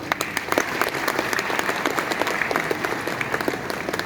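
An audience applauds the winner at the Baku Open chess festival, sustained dense clapping with crisp individual claps standing out, steady and moderately loud throughout.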